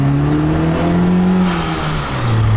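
A light sports car of about 600 kg and roughly 200 horsepower, with an automatic gearbox shifted in manual mode, revs loudly nearby; its engine pitch climbs and falls across gear changes.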